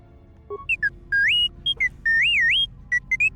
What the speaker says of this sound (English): the beeps and boops of T3 are just beeps and boops